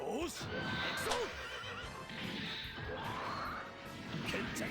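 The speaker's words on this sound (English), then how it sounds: "Horse" Horse whinnies in the SD Gundam G Generation Overworld video game, several rising-and-falling neighs over a dense game soundscape with crashes and hoof sounds, moderately loud.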